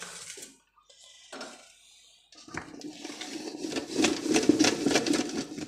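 Mango pickle stirred in a pot with a ladle: scattered soft clinks at first, then a denser, louder run of wet scraping and clatter building toward the end, close with no talk.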